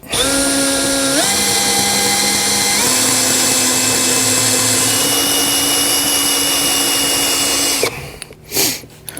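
Power tool, likely a rotary cutter, whining loudly and continuously while cutting out a radius during a Roadmaster crossbar-style base plate install on a 2019 Jeep, pitch stepping up twice before it winds down with clatter.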